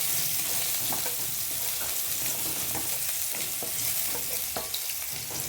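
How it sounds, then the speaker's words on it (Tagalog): Garlic sizzles in hot oil in a pan while it is stirred, a steady close frying hiss broken by scraping stir strokes, no talking. "Lalagay na natin yung bawang. Halo-haloin lang natin guys"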